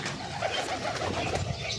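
Pigeons on a house rooftop coo softly and steadily, a low burbling call repeating over a faint background hum.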